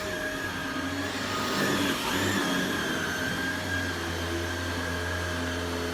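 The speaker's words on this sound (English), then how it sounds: "A child vacuuming." A child runs a vacuum cleaner indoors, giving a steady, loud motor drone with a low hum that holds unbroken for several seconds, with no voices.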